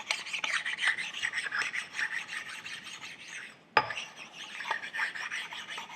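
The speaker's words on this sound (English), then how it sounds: "So I'm going to just take my precision ground flat stones and just run them over these surfaces." Precision ground flat stones rubbed over the metal surfaces of a Skinner four-jaw chuck, giving a steady close gritty rasping that pauses briefly midway and then resumes, with no talk.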